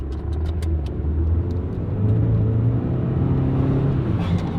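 A turbocharged project car's engine revs up from a low rumble, its pitch rising and falling through a few throttle blips, close and loud, with brief rattling clicks above it.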